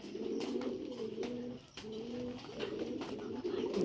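Pigeons released from a farm to feed coo steadily and closely, layered low murmuring calls continuing throughout with brief pauses, no talk.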